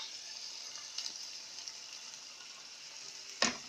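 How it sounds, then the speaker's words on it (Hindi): Marinated chicken for shashlik frying in a little oil, a soft continuous sizzle heard up close, broken by a few light stirring taps and one sharper clink near the end, with no voices. "अब मैंने 2 टेबल स्पून ऑयल डालकर अपनी चिकन को फ्राई कर लेना है जब तक ये थोड़ी सी अच्छी सी ब्राउन हो जाए।"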